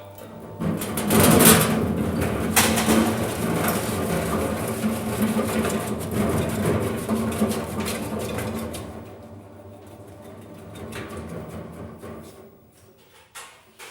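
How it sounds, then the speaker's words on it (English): A potato chipping machine runs loaded with potatoes, giving a dense, loud mechanical rattle and churn that eases and thins toward the end, with no talk. "it's important that we turn the machine on before we put the potatoes in"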